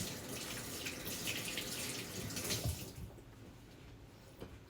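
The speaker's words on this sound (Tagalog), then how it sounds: "Malinis naman din ang kamay ko, pero kailangan ko pa maghugas." Steady water runs from a tap for hand washing before bread dough is made, loud and close for about three seconds before it cuts off, leaving faint dripping and quiet room sound.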